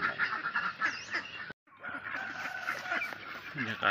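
Ducks on a duck farm keeping egg-laying ducks, a dense flock quacking and honking loudly and continuously up close, with a brief silent break midway.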